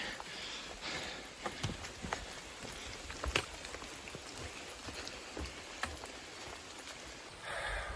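Steady rain falls on the Appalachian Trail with a constant hiss, scattered drops tapping nearby surfaces in irregular bursts; no voices, just a soft, continuous outdoor wash.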